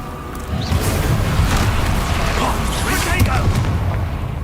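Expelliarmus spell cast in Hogwarts Legacy, a loud crackling burst with booming impacts and magical zaps running for several seconds, a voice talking over the combat noise.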